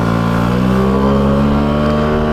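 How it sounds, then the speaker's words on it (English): A motorcycle accelerates at full throttle on a CBT training course, the engine note loud and rising steadily over a couple of seconds. "You just go full throttle"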